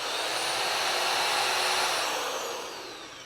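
A cheap electric earth auger spinning at low speed with high torque gives a steady, close, fairly loud motor whine and whir that holds for about three seconds, then eases off slightly at the end, with no talking over it.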